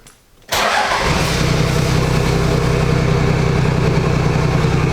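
A 4WD engine fitted with a plastic snorkel cranks and fires after a brief quiet moment, then settles into a steady, loud idle with a deep rumble and airy snorkel intake hiss.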